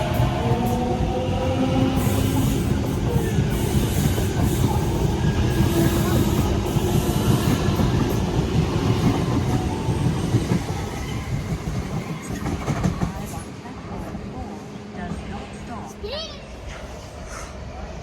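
A train passes close by at Flemington station, a loud steady rumble with rattling wheels that fades toward the end, while people talk over it.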